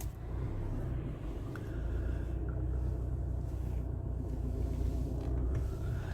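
A car creeping along at low speed while maneuvering into a parking spot during a driving lesson, giving a steady low engine and road rumble throughout with no talk.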